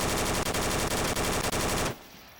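Automatic gunfire in the Onward VR shooter: a loud, continuous rapid burst of shots close up for about two seconds, then it cuts off into quiet room tone.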